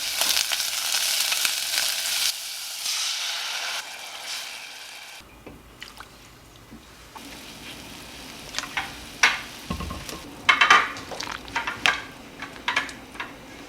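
Minced garlic frying in a pan gives a loud, steady sizzle for the first few seconds, then settles into a quieter crackle broken by scattered sharp clinks of a utensil against the pan.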